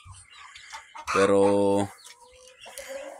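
Pet hens cluck and a chicken lets out a loud, drawn-out call in the middle, close by, with a few short spoken words around it.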